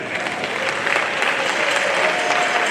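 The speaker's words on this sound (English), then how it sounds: "a round of applause for Mr. Edmund Mukala, UNESCO representative" Steady applause from a large audience at a livestreamed ceremony, sustained and even throughout without speech.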